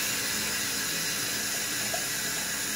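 A tap's water stream runs steadily over the handle of a shaving brush, a close, even hiss of flowing water with no voices.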